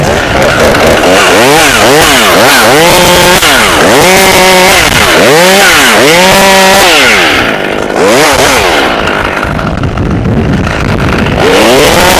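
A Husqvarna T540 XP chainsaw is cutting a tree, very loud and close. The engine revs up and down again and again as it bites through the wood, then settles into a steady high whine.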